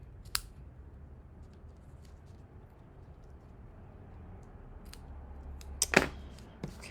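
Scissors trimming ribbon while finishing a stamped paper craft, a few crisp close snips spaced out over a low steady room hum, with no talking.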